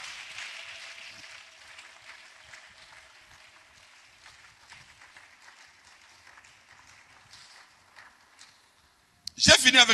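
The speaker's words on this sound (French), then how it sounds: "On peut encore applaudir pour ce Dieu-là." A church congregation applauds, with scattered clapping that starts moderately and thins out gradually, followed by a sudden loud burst of sound at the very end.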